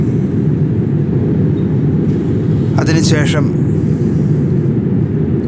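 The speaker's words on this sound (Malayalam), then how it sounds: "ആകാശപരപ്പിലാണ് ഇപ്പോൾ നമ്മുടെ വിമാനം സഞ്ചരിച്ചുകൊണ്ടിരിക്കുന്നത്" Inside an airliner cruising high over Thailand, a loud, constant low roar of engine and air fills the cabin throughout. Someone speaks briefly over the steady drone partway through.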